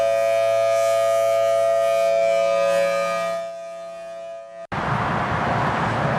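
A civil defense tornado warning siren wails loud and steady during a statewide drill, its tone fading out before an abrupt cut to broadband noise.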